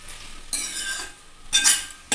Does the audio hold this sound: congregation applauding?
no